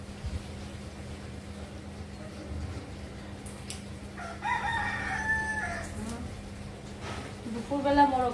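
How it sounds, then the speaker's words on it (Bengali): A rooster crows at midday, two drawn-out calls at moderate distance rising over a steady low background hum. "দুপুরবেলা মোরগ দেখতেছে কাকে।"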